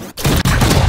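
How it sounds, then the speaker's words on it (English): KAY/O flashbang ability going off in the Valorant video game on the Breeze map, a loud, sudden burst followed by a sharp second hit and a sustained bright rush. "Flashbang."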